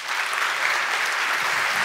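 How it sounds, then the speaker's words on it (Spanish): Dense, continuous audience applause for speaker Humberto Polar, a close, even wash of many hands clapping at once with no voices over it. "Fuerte el aplauso para Humberto."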